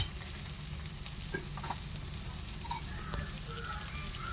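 Ragi dosa batter sizzling on a hot pan as a ladle spreads it, a soft, steady crackle with faint scraping touches, quiet and continuous.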